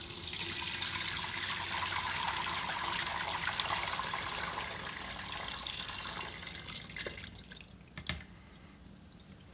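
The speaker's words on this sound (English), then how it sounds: "I'm going to pour this over and let you see how great it looks" Homemade chicken stock pours steadily in a continuous, close, splashing stream for most of the time, then thins out near the end into a few separate drips and splashes.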